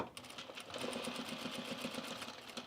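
A sewing machine stitches a buttonhole on trousers, its rapid needle chatter running steadily and close up, with a faint hum beneath and no talking.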